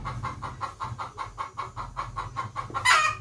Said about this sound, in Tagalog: Maingay yung manok guys, ando sa taas.